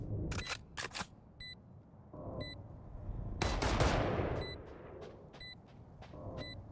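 Weapon reload in Valorant: a few crisp mechanical clicks and metallic snaps, moderately loud, mixed with brief bursts of gunfire and short electronic beeps in the game mix.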